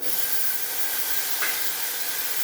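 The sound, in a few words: onion, green chilies and peas frying in tempering oil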